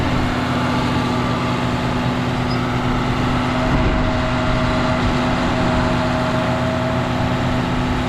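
John Deere 7810 tractor engine idling outdoors on a farm during bale loading, a loud, steady diesel drone with a constant low hum and no change in pace.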